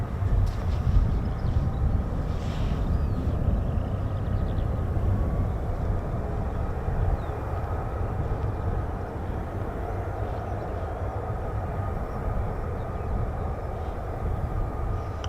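An F-35B stealth fighter jet flies over RAF Marham with a continuous, loud, low engine roar that holds steady throughout, carrying some distance.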